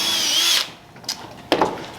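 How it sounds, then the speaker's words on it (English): A power drill pre-drilling holes into wooden 1x4 batten strips for self-tapping screws in a metal shop whines at high speed for half a second, then stops; a couple of brief short bursts follow. "I am pre-drilling a few holes into the 1x4s with the self-tapping screws."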